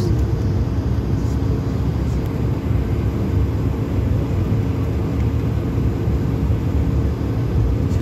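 Steady low rumbling drone of jet engines heard from inside the cabin of a Bulgaria Air Airbus A220-300 while taxiing, constant and unbroken with no talking.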